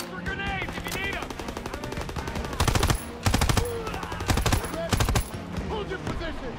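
Rapid machine-gun and rifle fire in Call of Duty WWII, loud repeated bursts over a dense battle mix with shouted voices and music throughout.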